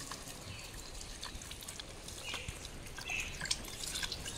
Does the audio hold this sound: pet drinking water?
yes